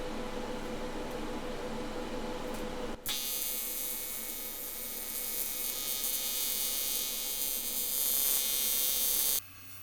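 Steady high-frequency TIG welding arc hiss and buzz on a small aluminum tank, running continuously for several seconds close up with a low electrical hum, cutting off abruptly near the end.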